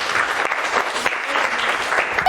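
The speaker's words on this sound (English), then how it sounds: "Can you please clap for him?" Secondary-school English class claps for a student, steady dense applause from the pupils running throughout.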